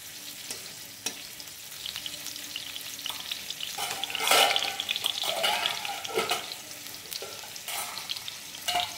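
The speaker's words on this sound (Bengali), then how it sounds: "কড়াটা গরম হয়ে গেছে, তেলটা দিয়ে দিলাম, দুটো শুকনো লঙ্কা" Two dried red chillies drop into hot oil in a heated wok for a vegetarian Bengali dish, crackling and sizzling steadily, with a few louder spits and bursts of frying.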